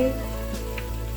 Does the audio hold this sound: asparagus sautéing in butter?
yes